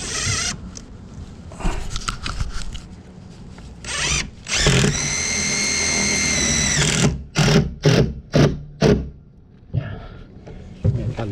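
A power drill drives metal screws into a fence, with several whirring bursts of varying length, one long sustained run in the middle and quick stuttering pulses near the end, all close up.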